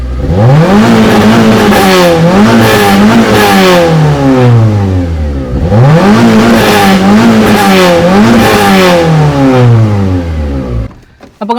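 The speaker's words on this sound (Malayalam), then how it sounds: "ഈ വേണ്ടി ഒന്ന് സ്റ്റാർട്ട് ചെയ്ത് കാണിച്ചു തരാം കേട്ടോ ഇതിൻ്റെ ആക്സിലറേഷൻ നമുക്കൊന്ന് നോക്കാം" A car engine revs hard in two long accelerating pulls, each climbing steadily in pitch before dropping back, loud and close with no talk.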